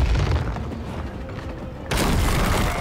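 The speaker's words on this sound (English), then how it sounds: "Yeah, we can shoot the statue." A shot striking a statue in Chaos Gate: Daemonhunters, a deep boom with rumbling mechanical noise that swells into a louder, broad blast near the end, with no voices.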